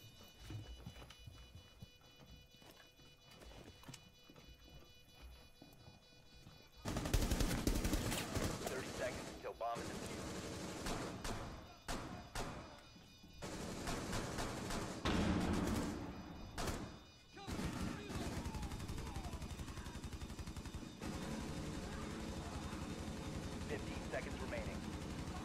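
Gunfire in a tactical shooter game, Rainbow Six Siege: after a quiet start, repeated sharp shots and bursts crackle loudly for the remaining time, with players talking over it.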